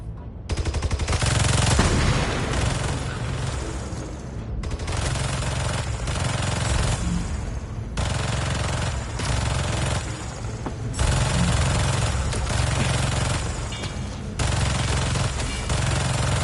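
Sustained turret gunfire from Marvel's Spider-Man 2 hammers away in long, loud, continuous automatic bursts, broken only by a few brief pauses.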